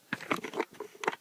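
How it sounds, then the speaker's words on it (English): Keys clack on a Ducky DK9008 Shine II keyboard with Cherry MX Blue switches, a quick burst of crisp, clicky strokes in an irregular rhythm, close and moderately loud. "I'll actually get some typing sounds for you"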